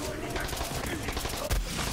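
Rapid bursts of gunfire from the video game Borderlands 3, a dense crackling barrage that runs steadily throughout with a heavier thump near the end, mixed with faint voices.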